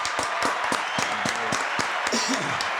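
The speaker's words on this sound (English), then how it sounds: "Let's give them a round of applause" An audience applauds a health-group sponsor at a live talk event, a few distinct claps over a continuous crowd wash, with a voice talking near the end.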